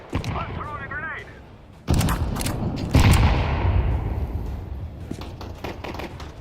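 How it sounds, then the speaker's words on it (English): Grenade blast in a Counter-Strike 2 match: a sudden loud boom followed by a rumbling decay, with a second heavy burst and scattered sharp gunfire around it. "I'm throwing a grenade"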